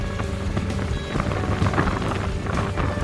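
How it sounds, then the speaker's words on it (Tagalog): Steady, loud rushing wind buffeting the microphone at North Point Pier, with a constant low rumble underneath and no voices. "Lakas ang hangin."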